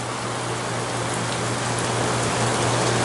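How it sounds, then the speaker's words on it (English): Steady rain falling on a surface in Pittsburgh, a dense continuous hiss of drops with a low hum underneath, no voices. "It just rains here a lot"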